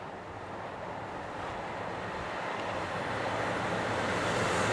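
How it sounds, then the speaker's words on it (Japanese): A KiHa 283 series Super Ozora limited express diesel train passes through a station on the Chitose Line, giving a continuous broad roar that swells steadily louder across the whole stretch, with no voices. "4番線を列車が通過いたします。"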